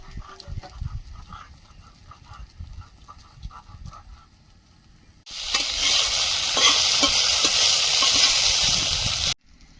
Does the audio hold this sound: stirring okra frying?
yes